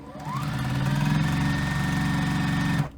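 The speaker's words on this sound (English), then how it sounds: "And now I'm going to sew them" A sewing machine runs continuously for about three seconds, stitching quilt pieces together at a scant quarter-inch seam, giving a steady, close mechanical whir with a rapid needle rhythm that stops abruptly at the end, with no talking.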